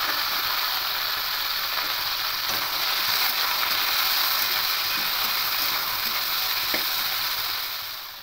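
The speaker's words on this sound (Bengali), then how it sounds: "প্রথমে ঢ্যাঁড়সগুলো একটু হালকা ভেজে নেব" Okra frying in oil in a wok gives a dense, steady, loud sizzle, a bright crackling hiss that holds evenly throughout with a few faint stirring clicks, then fades slightly at the end.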